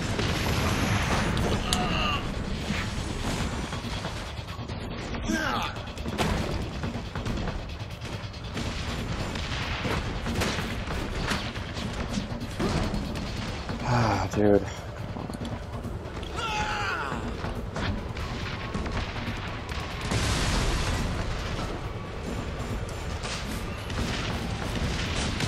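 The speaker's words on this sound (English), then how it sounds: "There's too much explosions." Explosions and gunfire from the Spider-Man: Web of Shadows video game fill the scene: heavy booms, rattling shots and mechanical creaks pile up constantly, loud and chaotic, with voices talking underneath.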